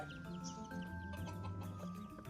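One-month-old chicks on a small poultry farm cluck and peep softly and continuously. The sound is faint and somewhat distant, with overlapping calls over a low background hum.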